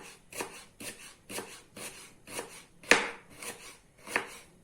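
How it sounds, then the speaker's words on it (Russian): Onion sliced very thinly on a board for frying, a regular series of about ten crisp knife chops, close and clear with no talk. "На зажарку тоже я всегда добавляю побольше лука. Режу я его очень-очень тоненько."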